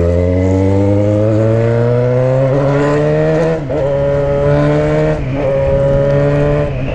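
A Yamaha XJ6 four-cylinder motorcycle fitted with a 2.5-inch stainless steel exhaust, revving loud and close with a steadily rising engine note, a brief dip around the middle as it shifts, then pulling hard again.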